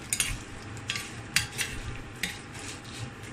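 Dried chilies and garlic stir-fried in a pan, giving soft sizzling with a few sharp scrapes and clinks of a utensil stirring at close range, no voices.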